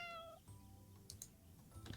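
A cat meows in the Animal Shelter Simulator video game, one short, faint mewing cry followed by soft clicks and small sounds, quiet and close, with no talking.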